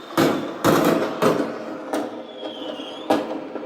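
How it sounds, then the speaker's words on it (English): Fireworks going off in separate sharp booms, five or so at irregular intervals, each trailing off in a rumbling echo at moderate distance. "And these are fireworks going off"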